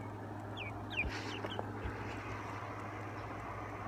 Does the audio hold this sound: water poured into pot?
no